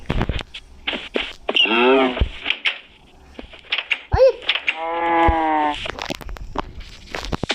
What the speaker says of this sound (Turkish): Bu inekleri çok sevdiğim için bir sürü koydum. İnek.